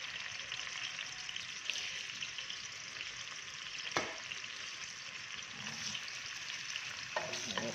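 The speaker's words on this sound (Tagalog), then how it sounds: "Mag-gis tayo ng sibuyas at saka bawang para sa ating adobong sitaw." Onion and garlic sizzling steadily in a hot oiled pan for Filipino adobong sitaw, with a constant frying hiss broken by occasional stirring scrapes, close and moderately loud.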